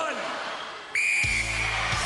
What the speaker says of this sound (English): Deane, you will start on my first whistle.